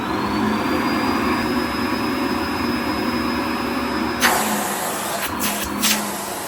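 Goodmans TurboMax vacuum cleaner running at full power during a suction meter test, a loud steady motor roar with a high whine, then sharp changes in pitch as the airflow is blocked and released near the end.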